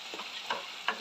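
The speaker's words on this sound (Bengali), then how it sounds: "দিয়ে নাড়াচাড়া করে নেব যতক্ষণ না তেল ছেড়ে দিচ্ছে মশলা থেকে" A spice mixture with salt is stirred and fried in oil, giving a brief soft hiss with a few faint scraping strokes, quiet and close, no voices.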